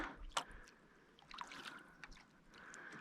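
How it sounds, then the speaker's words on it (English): Kayak paddling on a quiet Swedish lake, with soft, intermittent splashes and water trickles from the paddle strokes, close by and fairly faint, with no voices. "I'm now paddling on my beautiful lake"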